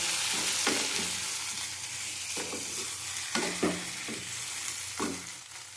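Chicken pieces and potatoes sautéing in a pan for a Bengali chicken malai curry with coconut milk, a steady close sizzle broken by repeated scraping stirs of the spoon, no talk.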